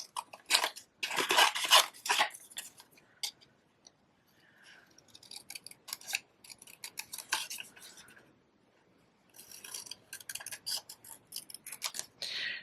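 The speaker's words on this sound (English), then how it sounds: "I just used my paper snips to do that with" Paper being cut with paper snips for a watercolor melon card, heard as close, crisp bursts of snipping and crunching in several runs separated by short pauses, with no talking.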